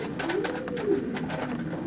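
Racing pigeons coo inside a widowhood loft with big nest boxes. A soft, low rolling coo rises over a murmur of other birds, heard close and fairly quiet.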